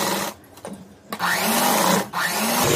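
Sewing machine stitching a coat, starting the seam at the neck, running in loud steady bursts with a short pause around the middle and another brief stop near the end.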